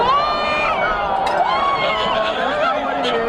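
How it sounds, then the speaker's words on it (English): A crowd at a high school football game, Whitehouse at Nacogdoches, roaring and cheering after a referee's penalty signal, a loud sustained roar with shouting voices mixed in. "You heard the crowd just go ballistic when he made that signal to the referee"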